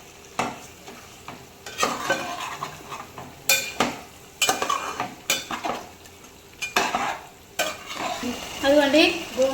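Gongura leaves being stirred into chicken curry in a pan on the stove: a spoon scrapes the pan in repeated bursts over a soft sizzle, loud and close, with no talking.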